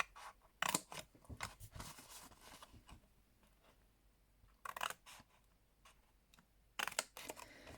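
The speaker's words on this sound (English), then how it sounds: "we're going to cut up to the first score line" Scissors snipping through card along score lines while making a handmade gift box, with a few sharp close cuts in short bursts separated by quieter handling sounds.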